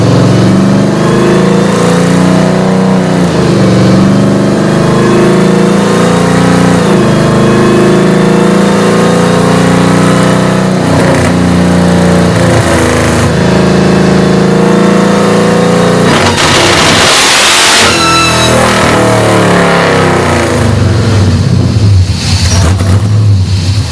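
Hellcat-swapped 1972 Dodge Demon engine roaring loudly throughout a run, rising and falling in pitch as it climbs through the revs, with a brief shift-like break midway and sustained heavy exhaust drone.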